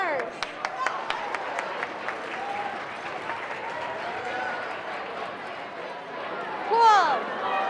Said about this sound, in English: Applause for our winners.